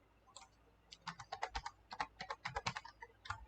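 Fingers type on a computer keyboard in quick, uneven runs of soft keystroke clicks, close but fairly quiet, with no other sound around them.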